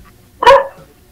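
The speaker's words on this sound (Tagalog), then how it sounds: "Aso." A single loud dog bark rings out nearby against a quiet background, sharp and brief with a short tail.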